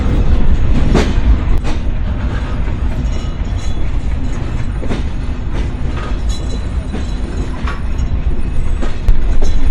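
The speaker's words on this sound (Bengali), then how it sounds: "তো আমাদের ট্রেনটা এখন যশোর রেল স্টেশন থেকে চলে যাবে হচ্ছে নোয়াপাড়াতে" A passenger train leaving Jessore station for Noapara, Bangladesh, rumbles along the rails with a steady roar and rhythmic clacking from the wheels, close and loud throughout.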